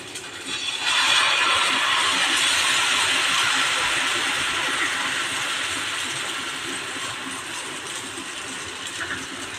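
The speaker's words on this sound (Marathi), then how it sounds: "आपण तवा आपला तापलेला आहे त्यावर असं छानपैकी हिरडं घालून घेऊया" Thin batter of jowar flour and fenugreek leaves spread in small rounds on a hot tawa, bursting into a loud, steady hiss that swells quickly and then slowly fades, with no talking.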